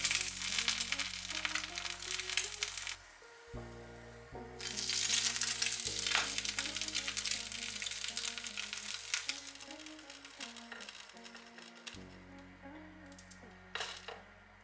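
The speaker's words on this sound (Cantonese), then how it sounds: "我哋煎荷包蛋，煎到窿邊之後反轉佢" Egg frying in a pan, a close sizzle under a bed of background music, with scraping and flipping clatter from a spatula.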